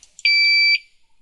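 A single short electronic beep from a J1939 simulator confirming a CAN baud rate change, a clean, steady high tone lasting about half a second, close and alone in near silence.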